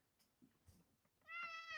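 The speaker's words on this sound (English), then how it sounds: "So this is my wonderful cat." A house cat, a tuxedo-patterned tomcat, gives one clear, close meow near the end after soft room rustling and faint handling sounds, sustained and fairly loud with no talk over it.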